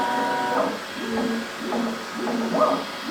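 A Bambu Lab X1 Carbon 3D printer runs its calibration routine, its stepper motors whining in repeated rising and falling tones, close and fairly loud, alone without talk.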